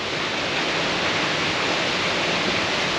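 King George Falls, a massive waterfall cascading down, gives a loud, steady broadband roar of falling water, constant and close with no voices over it.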